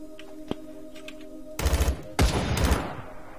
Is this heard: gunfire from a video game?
yes